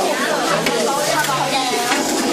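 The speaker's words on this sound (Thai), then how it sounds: "เขากำลังผัด" Dak galbi, Korean spicy chicken stir-fry, cooking in a pan at a restaurant in South Korea, with a steady close sizzle and clinks of a spatula scraping and stirring throughout, with voices murmuring in the background.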